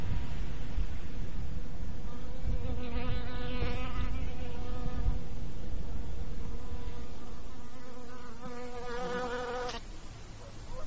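Bees buzzing around blooming purple crocuses in spring, a steady droning hum that holds close and loud throughout, with wingbeat tones swelling and fading as insects pass and ants crawl over the petals.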